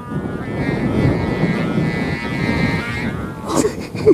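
Strong wind roars steadily against the microphone outdoors during kite flying, a loud continuous rumble that stays even throughout, with a few clattering knocks near the end.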